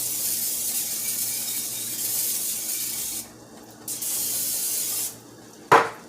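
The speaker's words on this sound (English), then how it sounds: "Non-stick cooking spray." Cooking spray hisses in long bursts, pausing twice, followed by a sharp clink of metal at the end.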